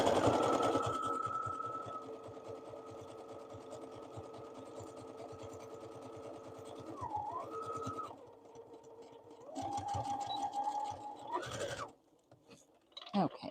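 A sewing machine runs steadily up close stitching lace onto a craft project in a home studio, a continuous whirring hum that shifts pitch as speed changes before stopping near the end.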